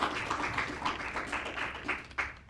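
An audience at a youth leadership graduation applauds graduates serving on nonprofit boards, a soft, continuous patter of clapping heard from a distance with a few louder swells.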